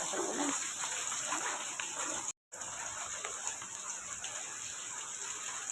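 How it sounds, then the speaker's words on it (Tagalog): Heavy rain falls steadily and loudly throughout, a dense continuous hiss with a brief dropout partway through, and no talking. "Lakas ng ulan dito sa amin."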